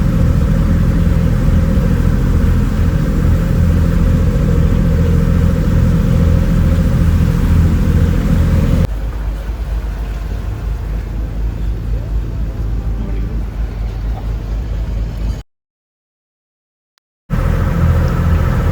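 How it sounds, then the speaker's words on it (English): Diesel engine of a government-run water bus boat on the Kerala backwaters, a steady loud low rumble that drops to a quieter drone partway through, cuts out briefly, then returns. "This boat is like a water bus."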